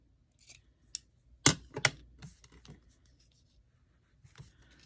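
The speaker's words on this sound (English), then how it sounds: "I'm gonna actually trim this one back just a bit." Scissors trim the edge of a paper card in a quiet room, a few crisp close snips clustered together and then a lighter final cut.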